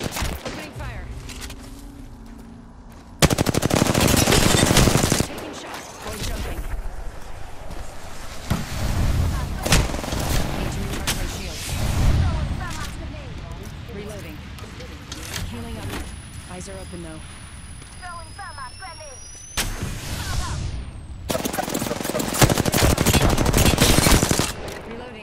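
R-301 rifle bursts in the Apex Legends battle royale game, loud sustained automatic gunfire in heavy bursts mixed with other weapon fire and explosions, with players talking over the chaotic battle.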